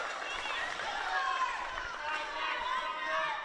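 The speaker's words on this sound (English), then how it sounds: "You can hear the Thunder crowd. They want this win, don't they?" Home crowd noise at a netball match in a women's league game, a sustained wash of voices and cheering held steady throughout, with some commentary carrying over it.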